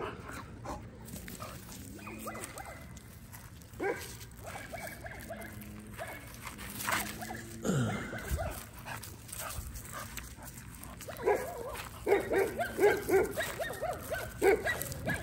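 A dog plays in a yard, letting out scattered yips, whimpers and short barks over rustling and handling noises, with a cluster of quicker barks toward the end and a voice speaking now and then.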